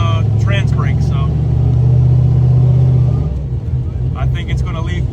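A drag race car sits on its trans brake before its first pass, its engine holding a loud, steady, near rumble at high revs for about three seconds before dropping off to a rougher idle, with voices talking over it.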